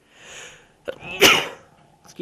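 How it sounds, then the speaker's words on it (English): A single sharp human sneeze, preceded by a short inhaling catch of breath and followed by a brief vocal sound, close and loud in a quiet room. "I'm trying not to sneeze on video, but it's kind of hard not to when it just kind of hits."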